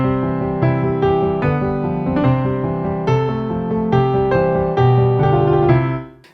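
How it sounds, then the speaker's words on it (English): Grand piano voice of a Donner DDP-200 digital piano, a loud, close sequence of sustained chords and melody notes with rich ringing tone, fading out at the end, no talking. "The first sound is the grand piano,"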